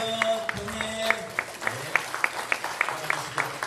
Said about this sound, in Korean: 장로님들도 뜨겁게 박수와 함께 인사 한번 하시죠